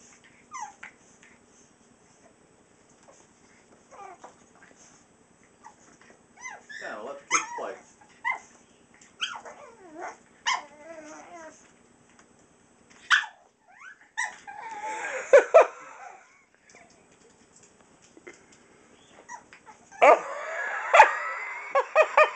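Dogs bark in short, irregular bursts with high whimpers and yips between them, close by and fairly loud, no talking.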